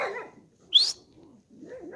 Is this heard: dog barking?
yes